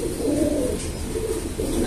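Imported breeding pigeons coo in low, soft, throaty rolls, close by and continuous over a faint background murmur.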